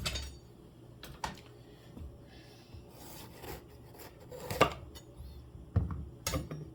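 Kitchen knife and utensils clatter and scrape on a counter while a potato, tomato and meat soup is prepared, with scattered sharp clinks and taps among quieter rubbing sounds, fairly close and without speech.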